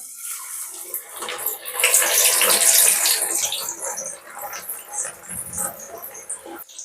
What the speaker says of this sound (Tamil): எண்ணெய் சூடாகிட்டுது இப்போ நாங்கள் கடலை பருப்பை போட்டுக்கொள்ளுவோம்